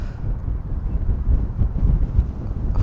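Strong wind buffets the microphone outdoors during a drone flight over Blackhorse Road in London, a loud, low, gusting rumble that surges and dips throughout with no voices.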